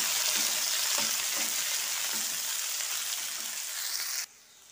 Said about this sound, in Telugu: ఇలా వేగిన తర్వాత పొటాటో, ఆలు ముక్కలైతే వేయాలి